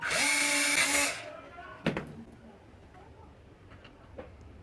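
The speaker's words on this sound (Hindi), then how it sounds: "अब इसके बाद जो है हमने ये चार्जिंग के लिए फीमेल सॉकेट का सुराख करना है।" A power drill bores a hole for a female charging socket in a DC rechargeable 12V fan; a loud whine runs for about a second, then stops, followed by a sharp knock and faint handling clicks.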